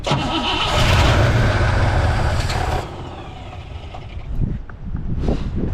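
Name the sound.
car engine shutting off with strange noises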